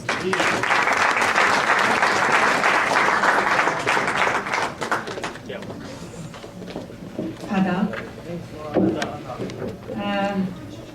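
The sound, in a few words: audience applause at a mushaira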